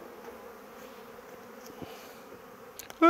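Honeybees buzz around an opened hive, a faint continuous hum at low level throughout, ending with a sudden loud clattering burst.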